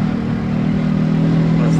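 An auto rickshaw engine drones steadily while driving, a loud, close, low continuous hum with road rumble and no pauses.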